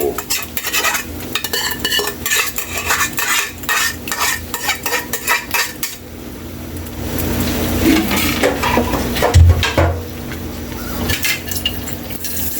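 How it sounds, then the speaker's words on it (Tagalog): A utensil stirs sautéed mung bean stew (ginisang monggo) in a pot with rhythmic scraping and clinking against the metal, followed by a softer, wetter stretch of simmering and sizzling, close and fairly loud. "Haluin lang natin ito"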